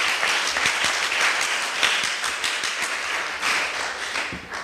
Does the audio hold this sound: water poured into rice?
no